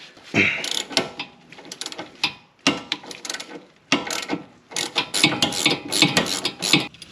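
Quick bursts of metallic ratcheting clicks from a socket wrench loosening a tie rod end on a 2004 Subaru Impreza WRX, close and loud, repeating in several runs separated by short pauses.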